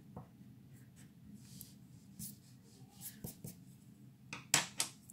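Writing on a board during a primary-school maths lesson on proportionality comes through as soft, faint scratching strokes, ending in a couple of sharper, louder marks, with no talking.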